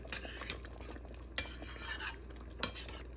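Palak paneer being spooned from a pan into a serving bowl, with soft scraping stirs and two sharp clinks of a spoon against the dish, close and quiet with no voices.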